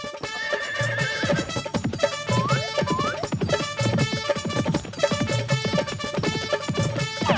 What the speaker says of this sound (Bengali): এই ঘোড়া তো খুবই ভয়ানক